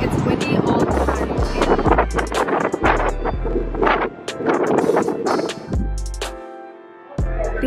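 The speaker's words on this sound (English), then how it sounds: "Guys, this is how fucking windy it is." Strong gusts buffet the microphone in heavy, low rumbling bursts, broken by short pauses as someone speaks.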